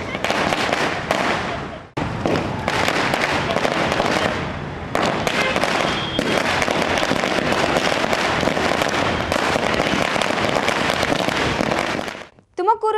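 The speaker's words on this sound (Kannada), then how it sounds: "ಇದೇ ವೇಳೆ ಟೌನ್ ಹಾಲ್ ವೃತ್ತದಲ್ಲಿ ಪಟಾಕಿ ಸಿಡಿಸಿ ಸಂಭ್ರಮಿಸಲಾಯಿತು." Firecrackers burst in a dense, continuous crackling barrage during a street celebration at the Town Hall circle in Tumakuru. The explosions are loud and close, with brief pauses, and a voice speaks over them.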